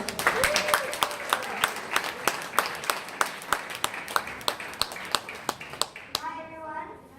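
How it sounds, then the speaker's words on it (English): An audience at a UAE Gavel Club speech contest claps to welcome a speaker on stage, claps merging into a rhythmic unison beat that slows and fades out, with voices underneath. "Please help me welcome her on stage with a huge round of applause."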